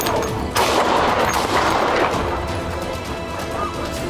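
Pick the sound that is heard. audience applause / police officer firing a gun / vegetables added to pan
police officer firing a gun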